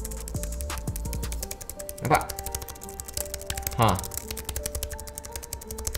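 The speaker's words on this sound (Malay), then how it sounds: "Tapi aku boleh guna aku punya ni MX Keys keyboard aku ni untuk type dekat" Keys clatter on a Logitech MX Keys wireless keyboard, with a few soft taps and two louder clacks as someone talks over them in Malay.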